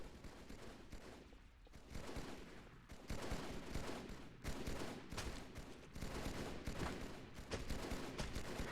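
Gunfire in the 2003 Halo 2 E3 demo: sustained bursts of automatic weapon fire and explosive blasts come in dense waves with brief lulls, loud and continuous throughout without speech.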